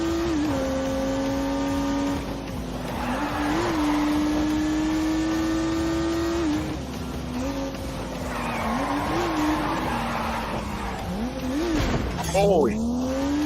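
A turbocharged 3-litre straight-six producing 365 horsepower drones steadily in The Grand Tour Game, its pitch climbing and dipping through gear changes, with tire squeals and a voice speaking over it.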